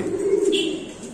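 Lahori pigeons coo in a low, steady rolling murmur at a pigeon farm, close by, with a brief higher chirp partway through.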